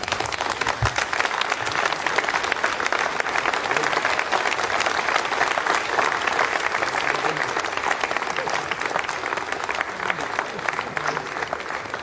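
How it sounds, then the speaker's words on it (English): Sustained applause fills the Jupiter control room after an Ariane 5 satellite separation, a dense, continuous roar of many people clapping throughout, loud and unbroken. "You can hear the applause now from the people in Jupiter."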